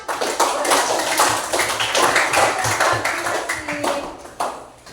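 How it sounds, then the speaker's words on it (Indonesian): Hands clap in a classroom during an open teaching lesson, a steady, fairly loud patter of many small claps lasting several seconds and fading toward the end. "Tepuk tangan."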